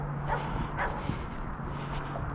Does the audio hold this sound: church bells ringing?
no